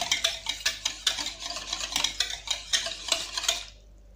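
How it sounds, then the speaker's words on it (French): Sugar mixture stirred briskly in a bowl, a rhythmic series of scraping strokes, close and fairly loud, stopping abruptly near the end. "On va bien mélanger."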